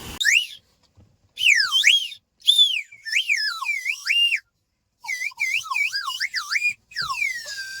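Bursts of shrill whistle blowing at a tourist spot in Mahabaleshwar, with warbling, rising and falling pitch, repeated in several loud close-up spurts separated by short silences.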